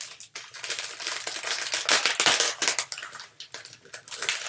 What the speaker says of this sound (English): We've got bubble wrap.